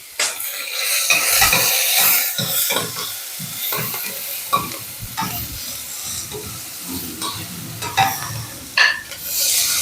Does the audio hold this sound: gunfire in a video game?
no